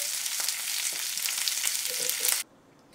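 Tomato and chopped vegetables for barbacoa taco salsa toast in a hot pan with a close, loud, crackling sizzle and a few light stirring clicks, then cut off abruptly near the end.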